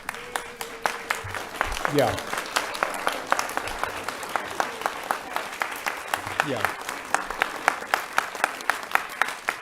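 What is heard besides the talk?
audience standing and applauding at a county council meeting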